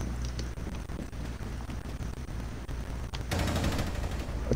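In the video game Rainbow Six Siege, rapid gunfire rattles steadily through the whole stretch amid game ambience and swells louder near the end.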